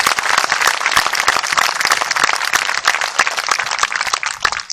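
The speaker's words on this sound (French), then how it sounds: "Je vous prie d'applaudir chaleureusement Benjamin Cauchy." Dense, sustained applause from an audience welcoming a political speaker from the Debout la France party, loud and continuous with sharp individual claps throughout.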